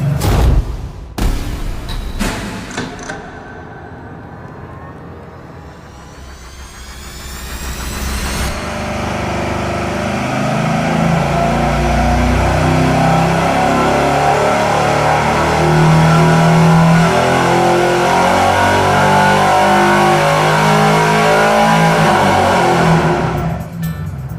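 An engine revs hard through straight pipes and mufflers, climbing sharply then settling into a loud, rough, burbling roar close by.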